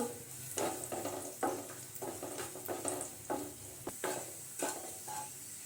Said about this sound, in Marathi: त्याच तुपामध्ये आपण बेदाणा, मनुका आपण परतून घेऊ